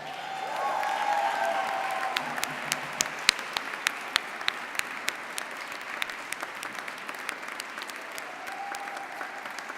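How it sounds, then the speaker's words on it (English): Audience at a baccalaureate service stands and applauds the mothers and guardians, a dense wash of clapping that swells quickly and holds steady through the clip, with individual sharp claps standing out near the front. "Please stand and give them a round of applause."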